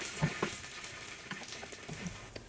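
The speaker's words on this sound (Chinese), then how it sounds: "煎至两面金黄即可" Thick-cut toast soaked in milk sizzles quietly in melted butter in a pan, with a soft steady crackle and a couple of light taps near the start.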